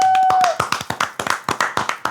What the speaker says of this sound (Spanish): Un aplauso para Juana y Luis.